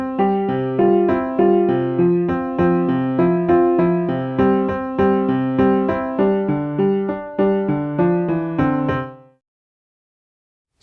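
Synthesized notes from the SunVox music tracker play back as a steady run of evenly spaced tones in a regular rhythm, loud and alone for about nine seconds, then stop into silence.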